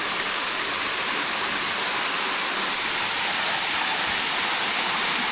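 Forest waterfall pouring steadily with a broad, unbroken rush of white water, loud and close, with no voices or other sounds over it.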